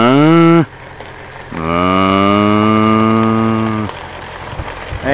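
Cows low loudly and close by in two long, deep moos, the second one drawn out for a couple of seconds. Light background noise sits beneath them.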